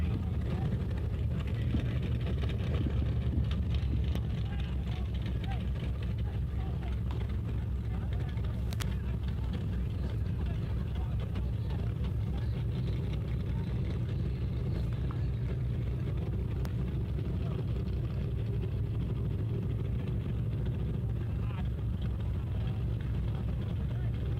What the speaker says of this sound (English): Listen to that big block 632 rev up in the left lane.